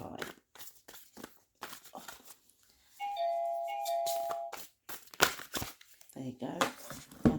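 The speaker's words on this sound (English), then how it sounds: "My doorbell's just gone." A doorbell chimes once with a sustained electronic tone, heard amid nearby rustling and crinkling noises and a person talking.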